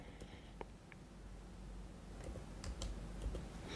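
Quiet keystrokes on a computer keyboard as a code is entered, a few scattered taps early then a quicker cluster of clicks near the end over faint room noise.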